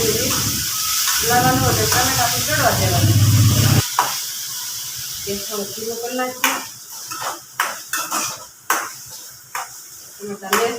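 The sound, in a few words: tomatoes cooking in a pan for onion khariyu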